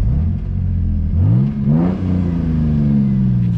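A car engine revs up hard and close, its pitch climbing and falling through a few surges before settling into a steady higher drone, with no voices.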